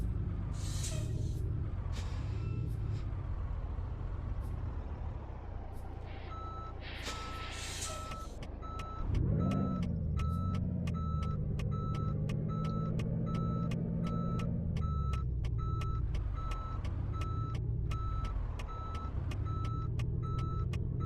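A truck in Euro Truck Simulator 2 backs up in a Scandinavian setting, its reversing alarm beeping in a steady, evenly spaced series over a loud, continuous engine drone that rises as it moves.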